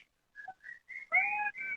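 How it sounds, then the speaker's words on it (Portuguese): Someone whistles a short, wavering tune in the background, with separate notes and then longer held tones. The whistling is clear, and no one talks over it. "Eu estou escutando um assobio, assim, no fundo"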